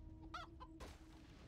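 Chickens in the video game WarCraft 3 cluck in a few short, close bursts, followed by a soft whoosh of game ambience.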